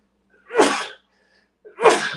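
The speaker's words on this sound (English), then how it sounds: "Of course, I'm going to sneeze again." Two loud, close sneezes about a second apart come from a person right after spraying perfume, each a sharp burst with nothing else in between.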